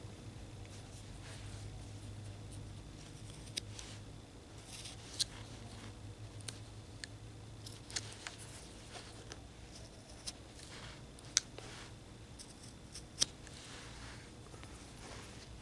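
A carving tool cuts into a carving of a jail scene, making scattered sharp clicks and small scraping snaps at an uneven pace over a low, quiet background.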